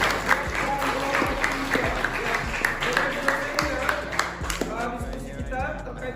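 Students in a classroom clap together, a dense fast patter of hands, close and fairly loud, with voices mixed in beneath the clapping.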